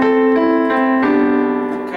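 Piano playing a short excerpt from a song, several close, clear chords struck in quick succession with ringing harmonics and no voices.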